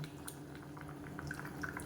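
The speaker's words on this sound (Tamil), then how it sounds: "இப்போ நல்லா கொதிக்க ஆரம்பிக்குது" A pot of black chickpea curry with tamarind water simmers, giving soft bubbling pops and small liquid plops over a faint steady hiss, with no voices.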